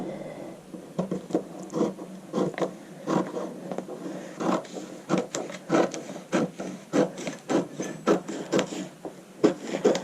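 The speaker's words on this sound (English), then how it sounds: "now I'm going to go ahead and cut out my hem sample." Fabric for a hem sample, weighted down with small tuna cans, is cut in a steady run of short, close crisp snips and scrapes with brief pauses, with no talking.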